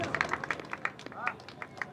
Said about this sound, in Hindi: ये मेहमानों के लिए तालियां तालियां लगाएं तालियां लगाएं